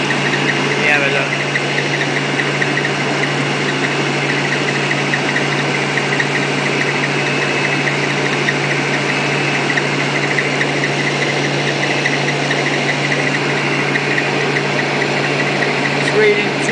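A car engine idles at about 1200 RPM, a steady, continuous drone with a constant low hum that holds level throughout without any revving.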